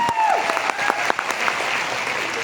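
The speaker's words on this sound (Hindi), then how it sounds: "एक बार तालियां होनी चाहिए हमारी R&D।" Audience applause at a product launch for a health supplement, brisk, loud clapping from a crowd lasting a couple of seconds without pause.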